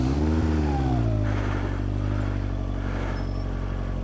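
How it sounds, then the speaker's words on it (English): A motorcycle engine hums steadily nearby as the bike pulls away in a slow training maneuver, pitch gliding gently downward without hard revving, with no talk. "As you can hear the engine, it's not revving away."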